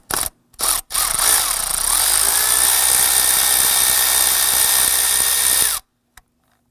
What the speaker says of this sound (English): So we're going to use our deep socket,